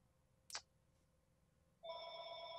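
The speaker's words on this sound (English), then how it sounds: "Like the phone rings, man." A telephone rings twice in a quiet room: a brief bright chirp, then after a short pause a sustained electronic ring that continues to the end, with no voices.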